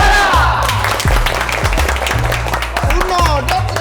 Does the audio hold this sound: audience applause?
yes